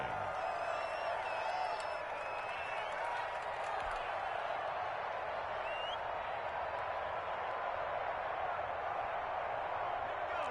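A stadium crowd at an American football game cheers after a punt as the Bears take possession, a broad, steady roar with whistles and shouts throughout, a commentator's voice audible over it.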